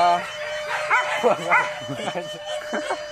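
Hunting dogs released for a wild boar hunt at a river in Sungai Pinang give short, high yips and barks that mix with nearby people talking.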